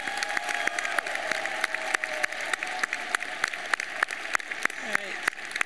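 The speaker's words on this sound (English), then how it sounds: "Join me in a round of applause for our salutatorians." A graduation ceremony crowd at Clackamas High School applauds its salutatorians: a steady, fairly loud wash of many hands clapping for several seconds, with sharp individual claps standing out and a brief voice near the end.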